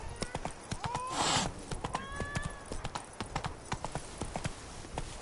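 Hooves of the horse in The Witcher 3: Blood and Wine pound in a steady galloping rhythm, close and loud, with a neigh rising over them partway through.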